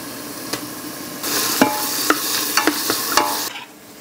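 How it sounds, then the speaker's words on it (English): Roasted garlic dropped into a pot of smoked butternut squash soup and stirred, a burst of hissing sizzle with quick spoon knocks and scrapes against the pot, close and fairly loud, then fading. "I am gonna throw in the roasted garlic now."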